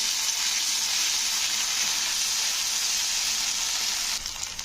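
Ginger garlic paste fries in a pan with a dense, loud, constant sizzle while it is stirred, and the sizzle drops off sharply near the end.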